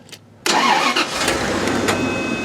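A 1998 Bentley Brooklands Mulliner engine cranks and fires. A faint sound comes first, then a sudden loud burst of engine noise that settles into a steady running rumble.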